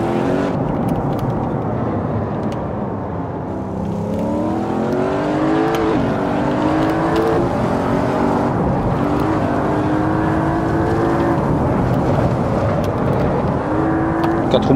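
An Audi RS6 engine in the racing game Assetto Corsa roars continuously at high revs, rising and falling in pitch through gear changes, loud and steady with no voices.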